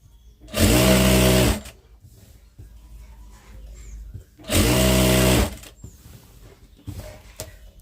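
Sewing machine stitching a saree petticoat, two loud steady runs of about a second each, separated by a quieter pause of handling noise and faint rustling.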